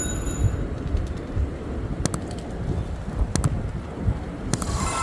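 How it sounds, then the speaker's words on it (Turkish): Steady low wind roar with gusty rumble in a Norwegian snowstorm, broken by a few sharp clicks and brief rattles; no voices. "Rüzgarı hissedebiliyor musunuz?"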